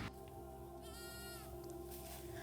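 Goats shown at a farming event call out with a single wavering bleat over a steady crowd hum and background noise.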